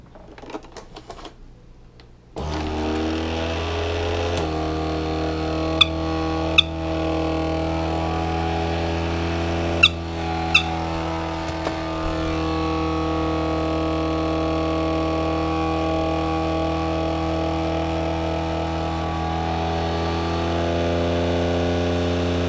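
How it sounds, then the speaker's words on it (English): A FoodSaver vacuum sealer pumps air out of a bag with a loud, steady motor drone that starts abruptly after a few clicks and handling sounds, with occasional sharp taps along the way. "Take all the things that are going to open your luggage, you've had them open before, and just vacuum seal them in a bag."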